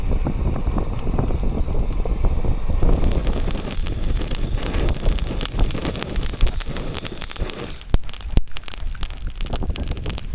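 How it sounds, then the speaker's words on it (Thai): Strong gusty wind roars and buffets the microphone continuously during a rainstorm at a treehouse, with a dense, hissing wash of heavy rain mixed in; no voices. "ลมแรงมากนะครับ แล้วฝนก็ตกด้วย"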